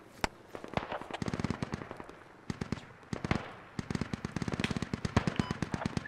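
Heavy automatic gunfire in the Squad video game, sustained bursts of rapid shots suppressing a building during an airfield assault, loud and close with brief pauses between volleys.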